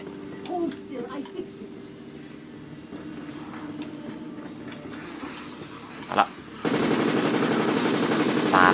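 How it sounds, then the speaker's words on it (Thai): Rapid automatic gunfire from Resident Evil: Operation Raccoon City, heard as a loud, sustained burst in the final seconds after quieter game sounds, with a sharp single shot just before. "แต่ยอมรับเลยปืนที่ ยิงเร็วแล้ว ก็ แรงด้วย"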